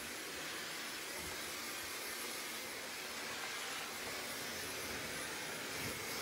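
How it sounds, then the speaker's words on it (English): A Dyson blow dryer runs continuously during a short layered bob haircut, giving a steady, even airy whoosh throughout with no talking. "this is a Dyson blow dryer"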